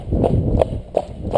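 Cob horse hooves clip-clopping through a village, a steady walking rhythm of close, clear hoof strikes on hard ground.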